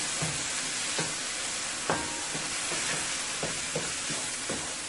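Steady sizzling of pumpkin frying in a pot, a continuous hiss punctuated by occasional stirring clinks and scrapes.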